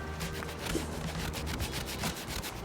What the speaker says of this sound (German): ich schleife die Flächen vom Kiwi Grip plan sozusagen